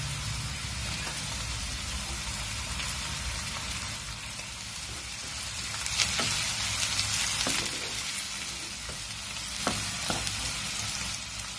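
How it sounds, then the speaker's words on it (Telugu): Dried prawns and onions fry in oil for a coconut dry prawn curry, giving a steady, close sizzle throughout with a few louder crackles and stirring clinks, and no talk. "ఉల్లిపాయలతో పాటు ఎండ్రోయిల్ కూడా చక్కగా వేగుతాయి."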